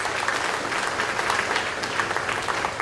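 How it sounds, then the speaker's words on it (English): Sustained applause from an audience at a high school academic awards ceremony, honoring first-year Red Cord volunteer recipients; steady, dense clapping throughout with no talk. "Another hand of applause for our first year Red Cord recipients"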